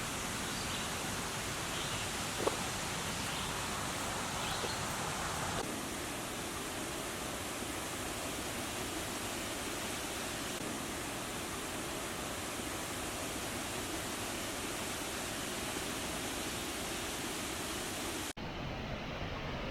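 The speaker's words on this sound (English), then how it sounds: "Just a few steps away from the parking area is the lowest of the waterfalls" A waterfall flows over rocks in an old growth forest in Pennsylvania, a steady broadband rush of water that continues evenly and cuts out abruptly near the end.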